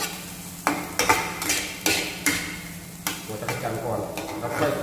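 Cicadas dry-roasting in a pan, tossed and stirred with repeated sharp scraping clatters and rattles over a low background hiss, close and fairly loud.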